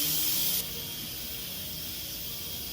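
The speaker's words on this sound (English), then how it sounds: "Oh, a lot of steam in there." Steam vents with a loud hiss from an Instant Pot's pressure release while spicy chicken and sausage noodle soup cooks, cutting off abruptly within the first second, after which only a softer hiss and room tone remain.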